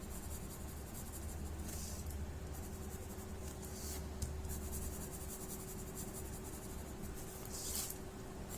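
Pen drawing Zentangle patterns on paper, faint scratchy strokes in short intermittent bursts close by, over a steady background hum.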